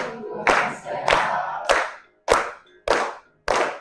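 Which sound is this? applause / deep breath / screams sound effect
applause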